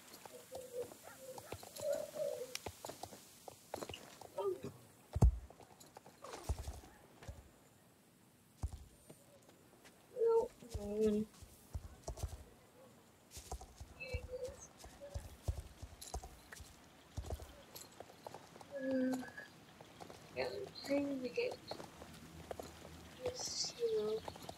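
Horse hooves clip-clop in irregular bursts of footsteps in the riding game Star Stable, with pauses between runs, and soft whinnies and other game sounds now and then.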